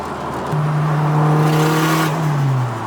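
A turbocharged car engine with an open wastegate revs hard, jumping from a low idle into a loud sustained drone that drops back down toward the end, heard up close with no talking.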